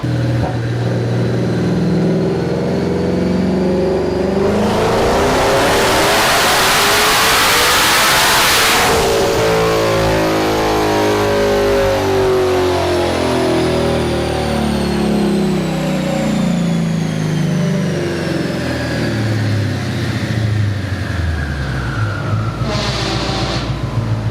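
A twin-turbo S650 Ford Mustang engine roars loudly on a dyno through a long continuous pull, its pitch climbing steadily through the revs with a whooshing surge midway, close and sustained.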